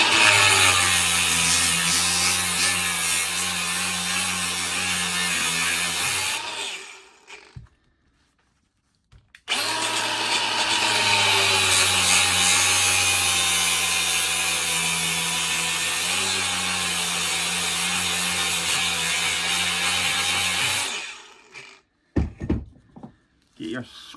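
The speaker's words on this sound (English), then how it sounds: "I think the best way we do this is to grind it." Angle grinder cutting into a scrap dishwasher motor with copper windings, a loud continuous harsh whine running about six seconds, a short silent pause, then a longer run of grinding, ending with a few clunks.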